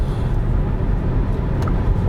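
A VW ID.3 GTX electric car accelerating on a highway gives a steady, loud rush of road and wind noise with a low tyre rumble and no distinct motor whine.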